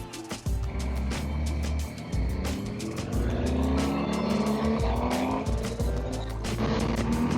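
A four-cylinder motorcycle engine pulling hard on an early-morning ride in Germany, rising revs sweeping upward through gears, loud and close with wind roar and sharp transient clicks, no speech.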